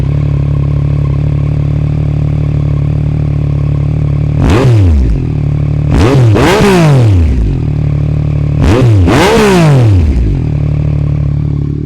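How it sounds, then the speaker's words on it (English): Close by, a Yamaha MT-09 motorcycle fitted with an Akrapovic carbon fiber exhaust idles loudly and steadily, then delivers three sharp throttle blips that rise and quickly fall back to idle. "we're going to start off with this Yamaha MT-09. We're going to start it up, see how she sounds when she starts, rev it up a little bit"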